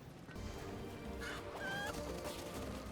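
Chickens cluck and squawk in a village in the PS3 How To Train Your Dragon video game, several short calls over a steady background ambience with no talking.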